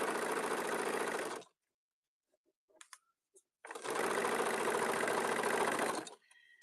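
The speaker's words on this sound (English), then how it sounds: "I'm going to stick that right under my presser foot. And I'm just going to run a quick seam down it to close it." A sewing machine runs a quick closing seam on a fabric pouch under the presser foot: two loud, close bursts of steady whirring separated by a pause, with a few faint handling clicks in between.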